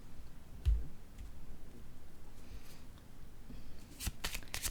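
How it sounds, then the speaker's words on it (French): A tarot card is set down on a table in a quiet room, giving one soft papery thud followed by light, scattered card taps and shuffling clicks, all faint and with no talking. "Maintenant, je vais déposer une carte sur ces deux-là."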